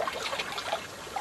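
River water runs gently past a boat beneath a leafy canopy, a close, continuous trickling and babbling with no voices.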